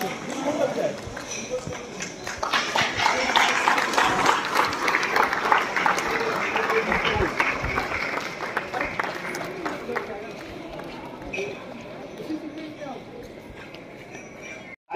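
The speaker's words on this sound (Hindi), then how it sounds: "जोरदार ताली।" Students and guests clap loudly and continuously at a school award function at Bal Bharti Vidyalaya, the applause gradually fading toward the end, with speech mixed in.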